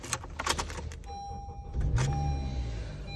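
A 2018 Honda CR-V being started: a few light clicks and taps, then a short whirring starter motor and an engine catching into a low steady idle, fairly close inside the cabin.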